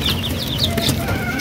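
Day-old chicks, with a few cobra and Black Knight chickens, peep in a rainy-season DIY brooder, a steady stream of high chirps close by with faint clucking underneath.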